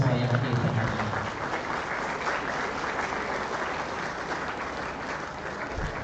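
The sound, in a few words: applause for career fair attendees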